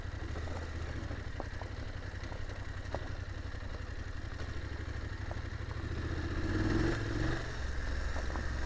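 A motorcycle rides over a rugged, rocky hill trail, its engine chugging at low revs under rattling and clattering from the rough ground, swelling briefly near the end, with no talk.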